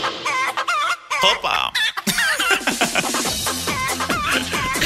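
Chickens cluck loudly and busily at close range in a film scene, with a rooster crowing among them and a brief shouted exclamation near the start.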